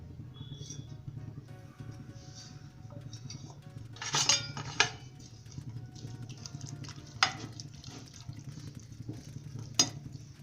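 A spoon stirs spices into Maggi noodles in a pan, with soft scraping and a few sharp metallic clinks against the pan over a steady low background.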